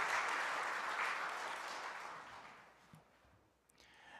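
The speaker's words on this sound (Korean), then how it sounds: "박수" Applause from a church congregation during a Friday late-night worship service, loud at first and gradually thinning out and fading over a few seconds.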